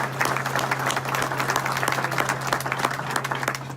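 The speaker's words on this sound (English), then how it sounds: "If we give them a round of applause." A crowd at a county breakfast event applauds the county commissioners, a dense, steady clapping from many hands filling the room for several seconds, with a low electrical hum underneath.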